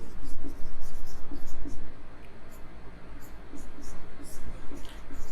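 Pen writing numbers by hand for a bubble sort example, a run of quick close scratchy strokes with brief pauses, under faint low murmured speech.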